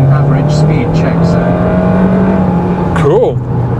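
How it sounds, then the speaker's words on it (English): A 2024 Kia Sorento hybrid accelerates hard, its engine rising in a steady loud drone heard from inside the cabin, with a brief voice over the top near the end. "we're about to see what the acceleration is like on this."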